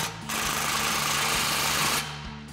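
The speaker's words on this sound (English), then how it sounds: "grab our clamp and slide that into place and tighten it down with our 15 millimeter" A power tool drives a 15 mm socket to tighten an exhaust clamp on a Jeep Wrangler JL, giving one steady, loud, close buzzing whir for about two seconds with no speech.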